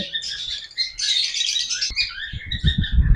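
Lovebirds and cockatiels in a bird shop chirp and tweet in a bright, busy chorus close by, with a rustling thump and low shuffling noises toward the end.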